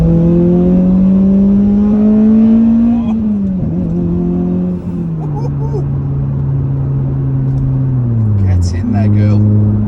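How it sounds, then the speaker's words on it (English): A Toyota Celica engine drones loudly and steadily, its pitch rising slightly then dropping and settling lower, with a deep rumble from a large 4-inch exhaust throughout. "I'm sure you can hear that big gnarly 4-inch exit exhaust on the back"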